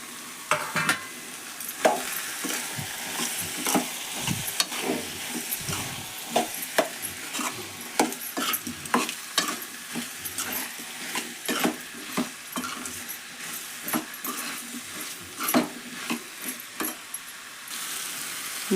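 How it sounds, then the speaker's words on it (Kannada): Tomatoes being stirred into a hot tempering in a pan, a steady sizzle broken by frequent sharp scraping and clacking of a spoon against the metal, close and continuous throughout. "ಟೊಮೆಟೊ ಅಷ್ಟು ಹಾಕಿ ಎಲ್ಲ ಮಿಕ್ಸ್ ಮಾಡೋಣ ಈಗ"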